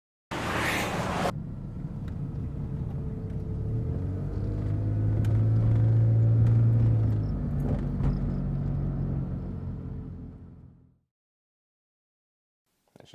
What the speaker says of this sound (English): sounds for this white van that the protagonist gets out of